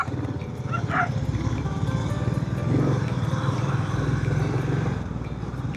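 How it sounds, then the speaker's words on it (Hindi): Street dogs run at a motorcycle during a morning ride on a scenic road to Jamsawli Temple, barking under the bike's steady engine drone and wind rumble. "तो अभी ठीक वो कुत्ते हमारे एकदम मतलब सामने आ गए थे"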